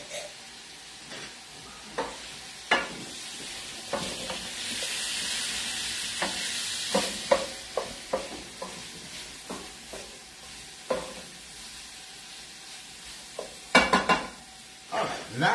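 Garlic and a pepper frying in olive oil for pasta with broccoli rabe and sausage, a quiet continuous sizzle with frequent sharp clicks and scrapes of a utensil stirring in the pan, close and alone.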